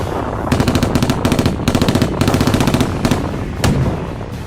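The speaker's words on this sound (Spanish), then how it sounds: "Las ametralladoras están listas, se cargan los cañones." Machine gun fire from archival footage of the Peru versus Ecuador war: loud, rapid bursts of rattling shots, several in a row with brief pauses between them.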